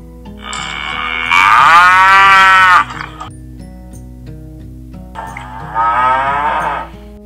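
Two drawn-out, loud moos of a cow in a children's read-aloud, the first longer and rising, the second after a short pause, each standing alone over soft music.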